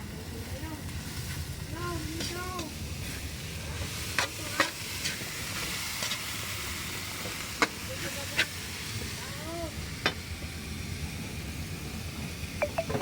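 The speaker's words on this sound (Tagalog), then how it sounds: "Ihalo-halo lang natin." Banana blossom adobo sizzles steadily in a pan while a spoon stirs it, with scattered scraping clicks against the pan over an even frying hiss, close by.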